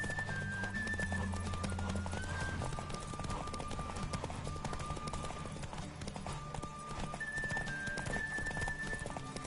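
Galloping horse hooves pound steadily during a horse race in The Witcher 3: Wild Hunt, a fast, continuous clip-clop mixed with game music and wind-like rush throughout.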